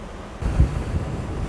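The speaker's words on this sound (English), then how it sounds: "The sea seems fairly calm, eh?" A calm sea at Tsitsikamma National Park, with small waves washing in and a light breeze. The rush of water and wind swells after a short quiet start and stays fairly loud, with no voices.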